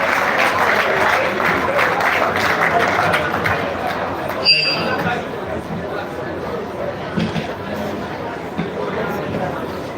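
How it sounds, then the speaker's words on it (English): An audience at a live-streamed academic paper presentation gives Professor J. Oboni a round of applause, steady dense clapping that fades a little partway through, with voices and murmuring underneath. "Please, another round of applause for him"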